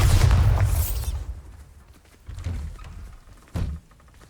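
A Bombarda blasting spell in Hogwarts Legacy sets off a heavy booming explosion that decays over about a second, followed by two shorter thudding blasts.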